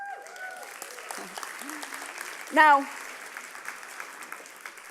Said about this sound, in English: I want you to give yourself a clap.